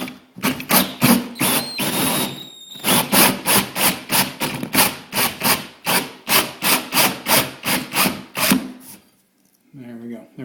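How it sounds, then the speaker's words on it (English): A hole saw drilling into a ceiling grinds in a steady rhythm of repeated rasping pulses, loud and close, then stops abruptly with a short thud at the end. "we'll just grab our hole saw here, handy dandy hole saw"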